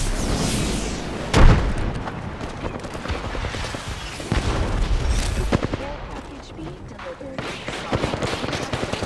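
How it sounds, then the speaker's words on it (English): A grenade explodes in the video game Apex Legends, a single loud, sharp boom rising out of dense, continuous battle noise with distant gunfire and rumbling throughout. "Grenade deployed."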